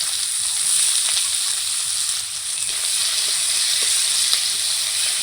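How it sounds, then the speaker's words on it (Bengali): Chopped onion frying in hot oil with bay leaf and panch phoron, a steady close sizzle and crackle with occasional sharp pops, continuous and without talk. "পেঁয়াজটা আমি লাল লাল করে ভেজে নেব"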